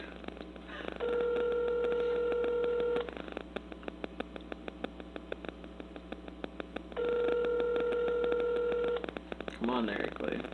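Phone ringback tone heard while calling someone named Eric Lee: two long rings about six seconds apart, with people talking and laughing softly underneath and in the gap between rings.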